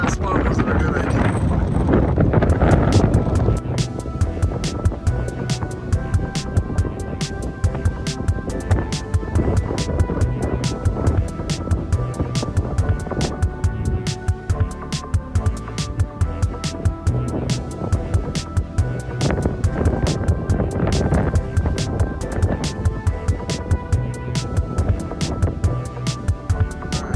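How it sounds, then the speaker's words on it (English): Strong gusty wind buffets a microphone outdoors beside a van parked at a casino, a loud continuous rumbling roar with rattling thumps throughout. "the wind is just unbelievable today"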